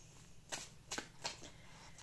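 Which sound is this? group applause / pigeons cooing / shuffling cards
shuffling cards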